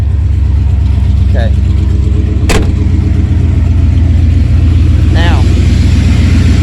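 Car engine idling steadily and loudly up close while an alternator is being tested, a constant low rumble with a sharp click partway through, and someone talking over it.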